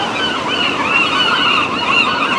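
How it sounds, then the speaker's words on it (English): Seagulls call overhead in a foggy coastal setting, a steady series of harsh, agitated squawks lasting throughout, fairly loud and with no talking. "I got some pissed off seagulls above me."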